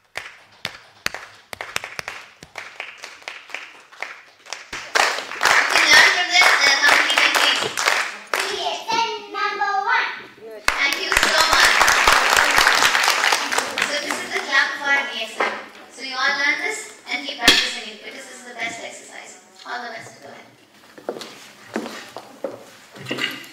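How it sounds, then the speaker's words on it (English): A group of women at a training session in a Dubai hall clap together in bursts of rapid, rhythmic hand claps, close and loud, with pauses between rounds and voices and chatter mixed in. "start clapping them"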